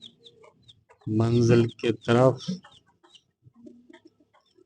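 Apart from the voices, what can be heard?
rooster and hen clucking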